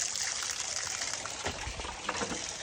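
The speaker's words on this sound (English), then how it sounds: "Hot water tap. Every farm should have one." A hot water tap on a farm runs into a bucket, a steady close gushing pour that holds at an even level for the whole stretch.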